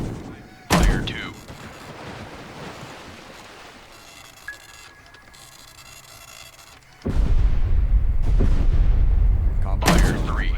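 Simulated naval gunfire from a destroyer shooting at a U-boat in Destroyer: The U-Boat Hunter: two loud, booming shots, the first near the start and the second near the end, over a steady rushing sea and engine background, with a radio voice speaking between them.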